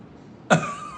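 A single sharp cough from a politician in a played recording, one abrupt burst with a short fading tail after a quiet start.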